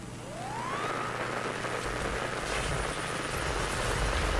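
Sci-fi scanning effect in the horror video game SOMA, with a rising electronic sweep that settles into a steady tone over a constant loud wash of mechanical hum and noise.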